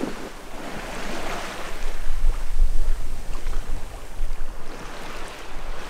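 A sailboat in the Providence Channel crossing from the Berry Islands to West End, with loud wind rushing past the microphone and waves washing against the hull in steady, surging swells.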